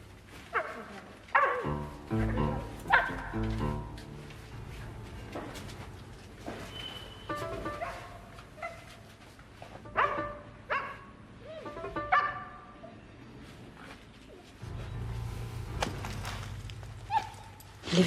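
A dog barks several times nearby, with yips and whimpers mixed in and some background noise between the barks.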